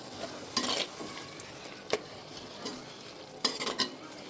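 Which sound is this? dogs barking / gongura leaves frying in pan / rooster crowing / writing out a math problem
gongura leaves frying in pan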